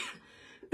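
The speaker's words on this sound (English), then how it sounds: "Of course, as I get on, I need to cough." A single short cough from a woman with a head cold, close and clear, following a faint throat sound, with no talk.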